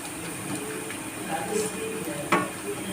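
Oil sizzles and crackles steadily as peppercorns, cardamom, cinnamon and cloves fry in a pan for biryani gravy, with a faint clink partway through.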